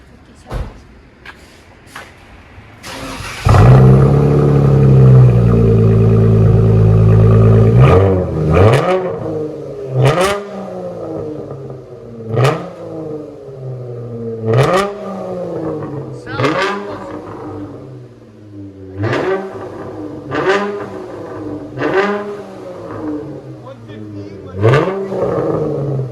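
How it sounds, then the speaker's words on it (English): A Dodge Challenger Shaker Edition with Dynomax bullet exhaust gives one long, loud rev, then a run of shorter throttle blips and a rough idle, heard close up. "Those Dynamax bullets, man, give it a really nice deep tone."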